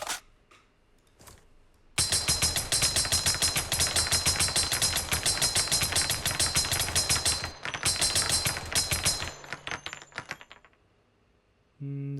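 Rapid machine-gun bursts from a Lewis gun in a blocky video game, a loud sustained rattle of shots lasting several seconds with a brief pause and a short final burst before fading.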